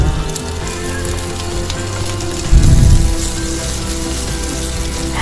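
Chopped onion goes into hot oil with ginger and green chili, giving a steady, loud frying hiss. A sharp sizzling burst flares midway as the onion hits the pan, then settles back into even crackling.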